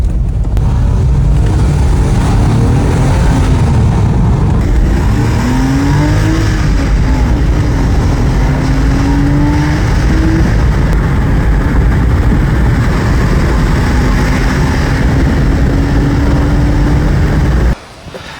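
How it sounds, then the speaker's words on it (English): A Porsche Boxster drives hard, its engine loud and close, revving up through gears in repeated rising sweeps before cutting off at the end. "taking this Porsche for a drive"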